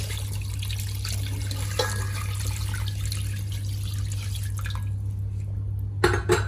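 Water is poured into a pot of meat and spices for Arabic harees, giving a steady close trickling splash for about five seconds, followed by a brief clatter of the pot.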